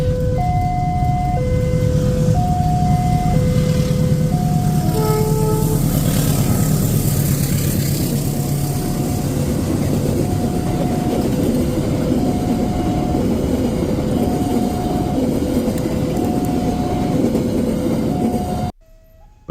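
A locomotive in two-blue-stripe livery hauls a train through Java, Indonesia, its heavy engine rumble and wheel roar loud and steady throughout, with a repeating two-tone horn or crossing bell pattern above, cutting off abruptly at the end.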